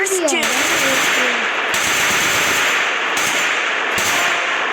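Rapid automatic gunfire in the Free Fire mobile shooter game, a loud dense rattle of shots in long sustained bursts with brief gaps, plus a short electronic tone at the start.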